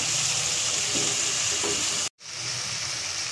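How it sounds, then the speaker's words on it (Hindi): Beef liver frying with crushed red chili and salt, a loud steady close sizzle and hiss with faint stirring, broken by a brief moment of silence before the frying resumes. "उनको अच्छी तरह से हम फ्राई करेंगे।"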